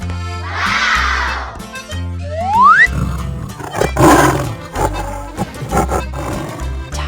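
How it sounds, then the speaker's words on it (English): A tiger roars in a couple of rough, powerful bursts over lively cartoon music with a slide-whistle flourish, loud and close, with no speech. "Tiger."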